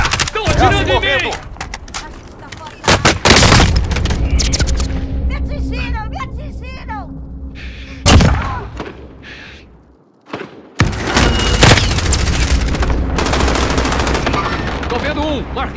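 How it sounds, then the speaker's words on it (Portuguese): Warzone video game gunfire: loud bursts of automatic fire and sharp shots in several clusters, with a quieter stretch in between. Voices talk in Portuguese over the shooting. "Estão atirando em mim!"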